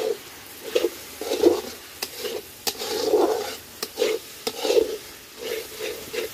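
Garlic and ginger sizzle in a pot for a village-style mutton curry cooked over a wood fire, with repeated scraping strokes of a stirring spoon, a few sharp clicks, and soft frying underneath.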